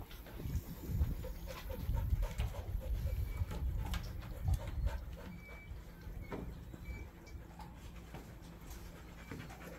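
Dogs panting close by in quick rhythmic breaths, louder in the first half, with light outdoor background noise and no talking.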